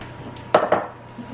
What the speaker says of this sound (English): So I'm gonna attempt to stir this with 2 utensils.